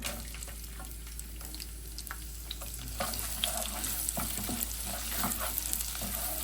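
Chopped small onions sauté in hot oil in a pan, a close, low sizzle that grows denser partway through, with frequent stirring scrapes and light clicks of a spatula.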